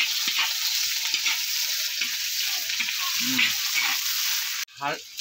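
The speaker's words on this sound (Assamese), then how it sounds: "এয়া পিঁয়াজটো অলপ হিলাই লৈছোঁ" Onion sizzles and hisses steadily in a hot pan while being stirred, with soft scraping knocks under the frying noise, then a brief clatter near the end.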